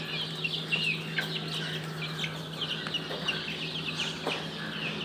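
Ornamental chickens of various ages cluck at a poultry farm, scattered short clucks and calls repeating at moderate distance over a steady low hum.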